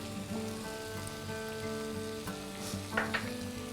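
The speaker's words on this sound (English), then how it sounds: "here first I'll add the rice and saute it, and we're going to very gently saute this" Rice sautéing in ghee in a pan for chicken pulao, a steady soft sizzle and crackle with a few brief stirring clinks, close and alone.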